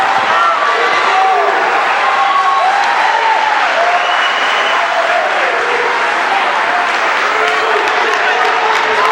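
A crowd at a high school wrestling meet cheers and roars continuously, loud and dense throughout, with yells rising over the din.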